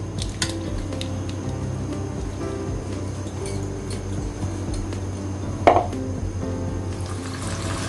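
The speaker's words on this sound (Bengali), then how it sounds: "ইলিশ মাছটা আমি মেখে নিচ্ছি" Hilsa fish being mixed and coated with spices by hand for frying, a steady close wet squishing and handling noise with a low hum beneath and a brief louder clack near the end.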